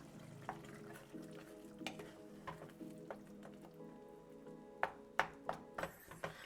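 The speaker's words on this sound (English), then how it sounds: "Okay, we're going to go ahead and stir this up." Tomato sauce for melanzane alla parmigiana sizzles softly in a pan while a spoon stirs it, with irregular scraping clicks and taps growing sharper toward the end; quiet and close, no talking.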